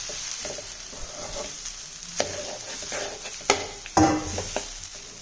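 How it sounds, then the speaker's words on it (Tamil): Cooked rice mixed with amla (Indian gooseberry) being turned in a hot pan, a continuous gentle sizzle with spoon scrapes and a couple of sharper clanks against the pan near the end. "அப்படியே அடியிலேருந்து நல்லா உடையாம திருப்பி விட்டுருங்க."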